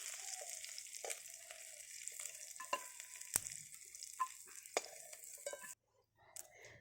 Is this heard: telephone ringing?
no